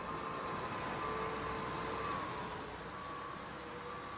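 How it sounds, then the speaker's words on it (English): An A330 auxiliary power unit running in X-Plane 12, a constant loud whining roar with a faint high tone, steady throughout with no voices. "And I do hear sound for the APU."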